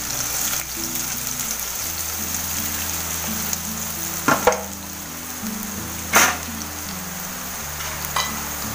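Onion and garlic fry in hot oil in a pan, a continuous close crackling sizzle with a few louder scraping bursts as the pan is worked; no one speaks.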